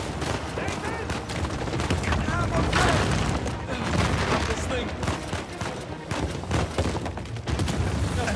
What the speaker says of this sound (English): they're shooting at me too.